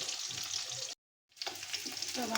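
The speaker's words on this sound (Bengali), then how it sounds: "বোয়াল মাছ কিন্তু ভাজার সময় ফাটে, তো দেখেন এখনও ফুটতেছে।" Boal fish heads fry in hot oil with a continuous close sizzle and crackling spatter. The sound drops out for a moment, then returns just as busy.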